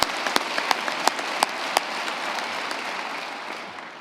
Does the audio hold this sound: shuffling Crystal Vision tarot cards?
no